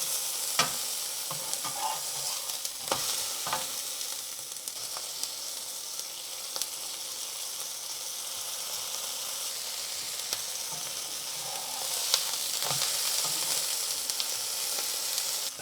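Pesto paratha frying on medium heat in a small splash of olive oil, a steady close sizzle throughout with a few sharp clicks and brief louder bursts, no voices.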